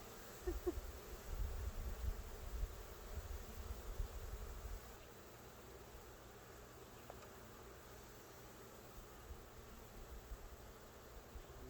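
A low, steady honeybee buzz hums close by around a hive, stronger at first and then settling into a faint continuous drone over soft background noise.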